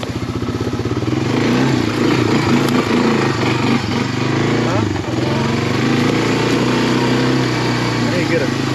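A Honda Fourtrax 300 4x4 ATV runs off-road through brush and deep ground, its steady engine drone loud and close throughout with clattering bumps, while a voice speaks briefly over it.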